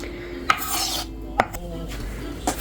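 A knife cuts mushrooms into smaller pieces on a cutting board, giving three separate sharp knocks spaced about a second apart, with soft scraping between them in a quiet kitchen.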